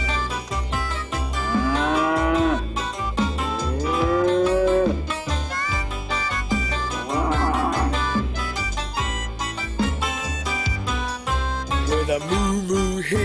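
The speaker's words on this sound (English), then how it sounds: "With a moo moo here and a moo moo there." Cow mooing for a nursery rhyme about farm animals, with drawn-out moos rising over a busy, loud musical backing that runs throughout.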